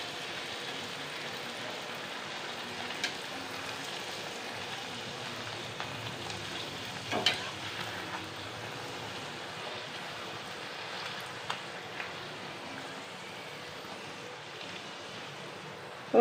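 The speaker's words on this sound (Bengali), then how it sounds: "এবার একটা করে উঠিয়ে নিয়ে ছেড়ে দিতে হবে তেলে।" Luchi, flattened rounds of dough, are fried in hot oil, giving a steady, soft hiss and sizzle that runs the whole time with a few faint pops and clicks on top.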